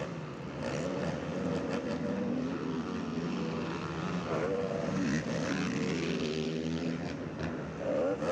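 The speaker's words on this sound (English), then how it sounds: "You can probably hear Hogue in that shot" ATV engines race on a motocross track during an ATVMX National Series event at Ironman Raceway, a steady loud drone of revving motors with shifting pitch filling the whole stretch.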